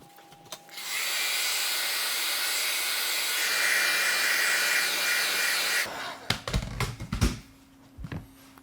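A hair dryer blows steady, loud heat across the cleaned outsole of a Nike Air Force 1 Mid sneaker, running for about five seconds before clicking off and giving way to handling noises.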